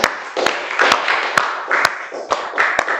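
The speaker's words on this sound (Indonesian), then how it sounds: "Boleh tepuk tangan dong." A few scattered, sharp hand claps ring out at close range in a talk-show studio, spaced irregularly while people speak continuously underneath.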